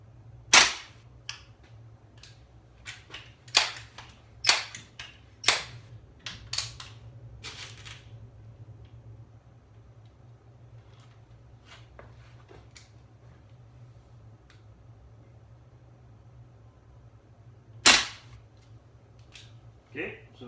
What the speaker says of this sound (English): so that's the pellet gun